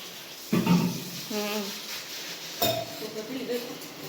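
A few clinks and clatters of dishes being handled nearby, with someone speaking softly between them.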